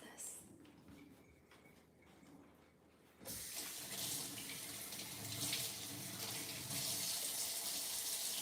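A kitchen faucet starts with a sudden loud gush of water partway through, then runs steadily as something is rinsed under it, preceded by quieter background sounds and faint speech.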